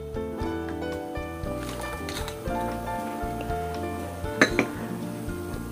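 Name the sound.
stirring beef broth with palm sugar in a pan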